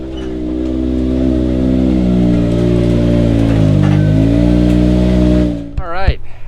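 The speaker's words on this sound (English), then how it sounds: "I'm gonna go get the Can-Am, pull that bad boy in here" A Can-Am UTV engine runs at a steady, loud idle-to-low rev hum as the machine creeps into a trailer, dipping briefly in pitch midway before cutting out near the end, followed by a few short clanks and rustles.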